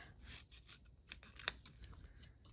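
Scissors trimming a paper cutout for a mini book charm, giving faint, close snips and soft paper rustling with one sharper cut standing out, and no voices.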